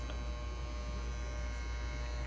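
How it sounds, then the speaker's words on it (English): A Wahl KUNO hair clipper buzzes with a steady electric motor drone, close and constant throughout, with no voices. "That is the new KUNO clipper from Wahl."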